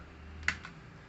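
Two quick, faint keystrokes on a computer keyboard, a sharp click followed by a softer one, as a spreadsheet formula is typed in a quiet room.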